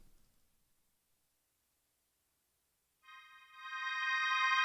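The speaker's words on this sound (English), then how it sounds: "this synth sounds like this" A synth plays romantic chords without the pedal, entering after a long silence as a faint bright sustained tone that swells steadily louder to the end.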